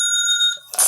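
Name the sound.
alarm going off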